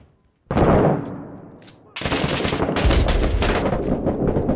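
A single sharp sniper shot cracks loudly in a realistic first-person shooter game, decaying briefly before a sustained burst of heavy gunfire and explosive rumble fills the rest of the moment.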